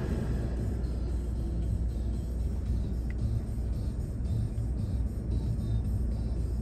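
A 2020 Dodge Durango R/T pulls out of a parking spot, heard from the cabin as a steady, low engine rumble with road noise, moderately loud and unbroken, with no talking.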